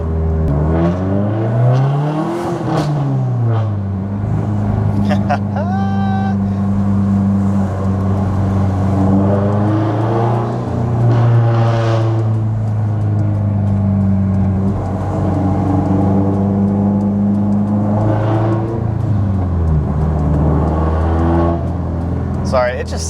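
A Subaru STI making 400 whp on E85 drives through the city, its engine heard from inside: repeated rising revs through the gears, then steady droning cruise, loud and close, with a voice talking over it at points.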